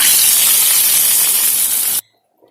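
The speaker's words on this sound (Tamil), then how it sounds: "கறிவேப்பிலை, இப்போ இதை மீன் குழம்புல ஊற்றிக்கலாம்" Hot tempering with curry leaves poured into a mango fish curry gives a loud, steady broadband sizzle and hiss that runs for about two seconds, then cuts off abruptly into near silence.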